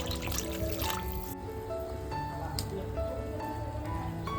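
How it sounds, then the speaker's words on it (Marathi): Water poured into a pot of onion-tomato curry base for a clam gravy trickles and gurgles continuously, close and moderately loud, with a steady background hum. "पाणी ऍड करून घ्यायचंय रस्स्यासाठी."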